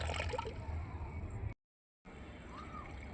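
Water drains and gurgles as soaked black gram husk is strained, a soft close sloshing that cuts out briefly midway and then resumes more quietly.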